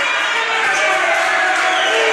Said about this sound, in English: They're cheering you on.